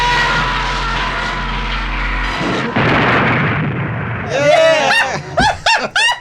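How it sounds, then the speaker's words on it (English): Loud movie explosions from a Cannon action film: a sustained, heavy low rumble that cuts off, followed by noisy blasts and a run of sharp bursts with tonal whooshing sweeps near the end, with no one talking. "There are dumb explosions nonstop."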